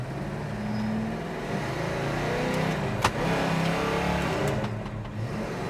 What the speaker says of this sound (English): Oh man, this thing spun the tires a bunch.